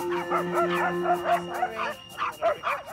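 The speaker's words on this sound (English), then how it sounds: "I think there's another dog coming." Several dogs bark and yip in a quick run of short, fairly loud calls, with a brief whining, howl-like tone early on, heard outdoors near a car park as another dog approaches.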